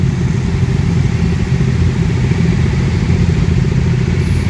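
A Honda superbike engine idles close by at a gathering of Honda superbike owners outdoors, a loud steady rumbling drone with even pulsing and no break.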